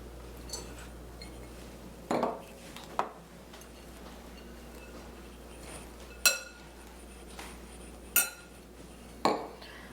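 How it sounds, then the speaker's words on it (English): Cheese being mixed in a bowl for a holiday appetizer, soft scraping under a steady low hum, with five or six sharp clinks of a utensil against the bowl spaced a second or two apart, no voices. "All right, I'm going to mix the cheese."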